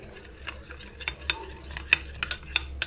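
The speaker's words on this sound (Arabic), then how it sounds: "وهبتدي اقلبه." A spoon stirs thick shawarma sauce for fatteh in a pan after a little water is added, giving repeated close scraping strokes and light metal clinks over a faint low sizzle, with no talking.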